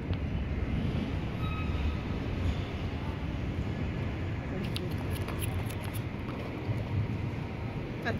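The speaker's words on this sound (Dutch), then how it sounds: "Wat denken jullie wat dit voor trein is?" A passenger train rolls through South Holland, giving a steady, loud rumble of wheels and carriage noise throughout, with faint higher rattles near the end and no clear talk.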